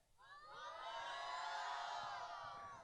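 A large worship-school audience yells loudly together on a count of three, a sustained, dense mass of voices that swells quickly, holds for a couple of seconds and then tapers off.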